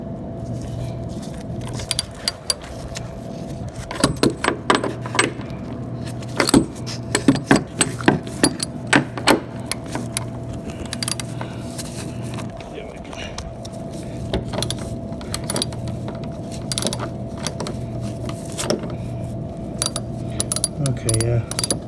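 Socket wrench turning a bolt on a new Hoshizaki SR72A-30M prep table, a burst of close metallic clicking and ratcheting over a steady motor hum, with rattling pauses in between.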